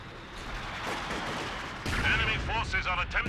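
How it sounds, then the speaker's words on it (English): Mortar fire in a wargame video game: muffled distant booms and crackling impacts building into a denser cluster of explosions in the latter half, heard behind a low background rumble. "Looks like he is being fired upon by this mortar here in the south."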